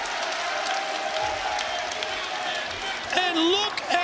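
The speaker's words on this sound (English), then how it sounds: "And the fans stand and cheer." Wrestling fans stand and cheer in an arena, a steady roar of crowd noise and applause that holds throughout, with a commentator's voice talking over it near the end.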